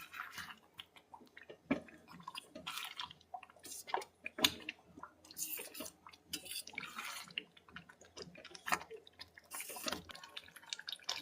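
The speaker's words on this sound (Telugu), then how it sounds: "మళ్ళీ ఒకసారి మొత్తం కలుపుకుందాం." Thick palak paneer curry with paneer cubes and oil is stirred in a pan, making soft, wet squelches and drips in an irregular rhythm, quiet and close, with no talking.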